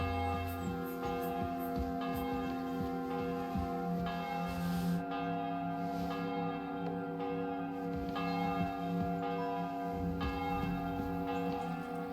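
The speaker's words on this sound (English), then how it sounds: "The bell's ringing for Hans the 5th time." A church bell tolls repeatedly in the video game Kingdom Come: Deliverance II, strong ringing strikes with long sustained overtones layered under a game music bed, steady and close with no voices.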